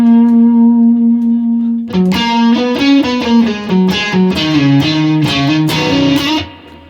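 Distorted electric guitar in standard tuning plays the opening line of a solo. A sustained note rings alone, then a quick run of picked, percussive notes with heavy effects and reverb follows.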